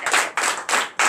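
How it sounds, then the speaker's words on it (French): A church congregation claps loudly and rapidly in four dense bursts at close range, with no voices. "Je vous demande d'applaudir très fort."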